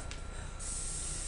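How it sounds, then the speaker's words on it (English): Hairspray misted onto hair styled in a 1950s pin-up wave, a steady close aerosol hiss that brightens partway through and continues to the end. "So yeah, we're just going to spray this."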